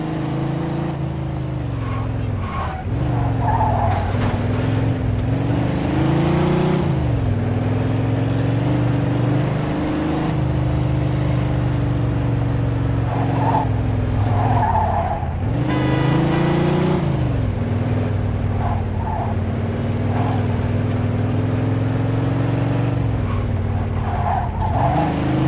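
A car in Mafia II driving hard with a steady engine drone, repeated long tire squeals and skids rising and falling as it slides through turns.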